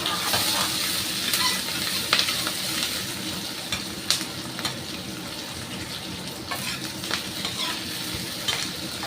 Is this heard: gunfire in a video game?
no